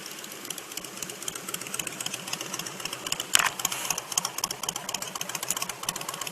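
A 400cc motorcycle engine idles at a stoplight during a charity ride, a steady close rhythmic putter with ticking, sewing-machine-like pulses, and a brief sharp burst of noise partway through.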